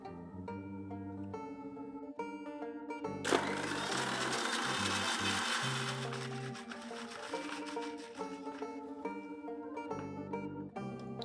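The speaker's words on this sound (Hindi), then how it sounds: "पहले पिस्तों को दही के साथ ब्लेंड करना है" Pistachios blended with a little yogurt for lassi, a loud motor grinding for a few seconds partway through a stretch of background music.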